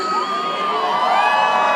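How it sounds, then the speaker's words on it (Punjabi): An audience at a Punjabi film promotion show hoots and cheers, a loud, dense burst of whoops and shrill shouts from a close crowd, sustained throughout. "ਇੱਕ ਵਾਰੀ ਸਾਰੇ ਜਣੇ ਮੈਨੂੰ ਹੂਟਿੰਗ ਕਰਕੇ ਦੱਸ ਦਿਓ ਵੀ ਜਾਓਗੇ ਨਾ"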